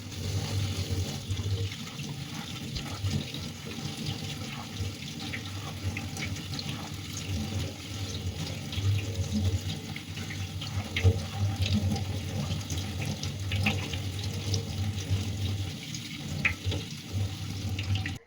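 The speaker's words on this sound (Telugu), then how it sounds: "ఎప్పుడైనా కానీ ఇలా ఫస్టే వాష్ చేసేసుకోవాలి" Vegetables are washed in a kitchen sink under a running tap, a steady close rush of water with light splashing that continues throughout, with no talking.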